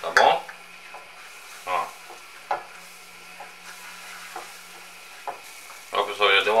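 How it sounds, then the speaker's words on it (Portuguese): Wheat flour cooking in melted butter for a béchamel sauce: a soft, low sizzle with intermittent stirring scrapes and clinks, while a voice talks over parts of it. "a gente vai fritar ela aqui, cozinhar, fritar aqui nessa manteiga"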